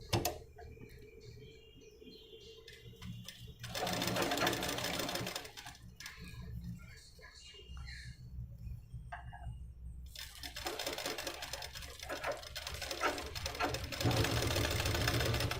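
A sewing machine stitching the collar neck of a blouse, running in steady bursts with pauses between, its motor whirring loud and close.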